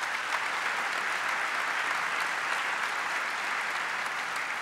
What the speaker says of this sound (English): So Claire McIntyre from New York Stock Exchange gets a round of applause.